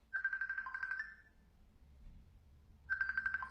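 A phone ringtone sounds in two bursts of rapid repeating electronic tones, one at the start and one at the end, separated by a quiet gap, fairly clear and close with no talking.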